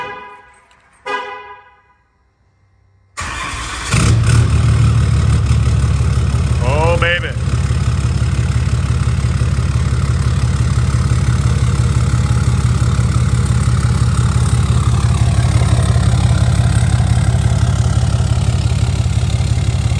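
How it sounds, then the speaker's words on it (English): A deleted 5th gen Cummins diesel pickup with a 5-inch straight pipe exhaust and no muffler fires up and settles into a loud, steady, rumbling idle; someone speaks briefly just before it starts. "That's a 5-inch straight pipe exhaust, no muffler."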